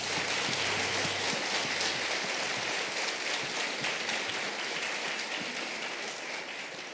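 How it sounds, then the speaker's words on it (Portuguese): A church congregation applauds together during an evening worship service, a steady wash of clapping filling the room for the whole stretch and tapering slightly at the end. "Você pode aplaudir a Jesus."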